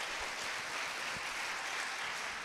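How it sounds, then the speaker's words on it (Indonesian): Crowd applause at a motivational gathering and sermon, a dense, even wash of many hands clapping continuously throughout, fairly distant and moderately quiet. "Tepuk tangan."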